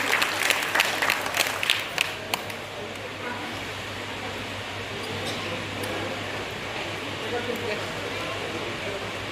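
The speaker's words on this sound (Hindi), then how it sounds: "जोरदार तालियां" Applause from an audience at a Buddhist cultural program, with a few sharp claps first and then a steady, broad crackle of clapping that continues evenly throughout, mid-distance with faint room hum.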